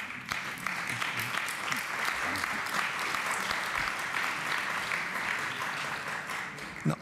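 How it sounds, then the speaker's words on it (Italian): An audience at a Biennale Democrazia 2009 debate on the internet and deliberative democracy applauds steadily, a sustained and fairly soft wash of clapping throughout. "Vi ringrazio per l'applauso"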